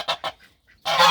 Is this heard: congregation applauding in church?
no